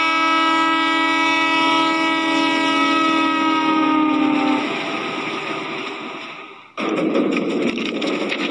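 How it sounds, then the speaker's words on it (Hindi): A train passes close by, sounding a long, loud, steady multi-tone horn for several seconds. The horn cuts off and leaves rumbling, clattering wagon noise, which surges louder again near the end. "लगता है रियल ट्रेन आ गया"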